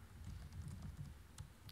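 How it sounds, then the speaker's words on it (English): Typing on a French computer keyboard, a quick run of soft, close key clicks at an even pace. "French keyboard."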